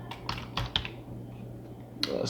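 Quick bursts of keystrokes on a computer keyboard, a few clicks in a short flurry, then a pause and a final tap, close up over a steady low hum.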